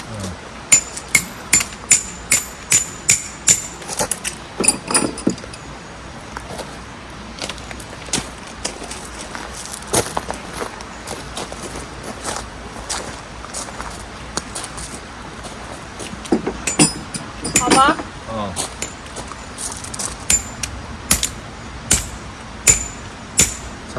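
At an autumn campsite, a hammer drives camping tent pegs, with sharp metallic strikes in quick clusters and pauses between sets, close and clear over quiet outdoor ambience.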